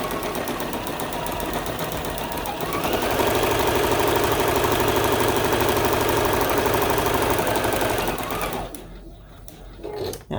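A sewing machine stitches quilt blocks for a Christmas tree quilt top, running loud and steady. Its stitching quickens partway through, then slows and stops near the end.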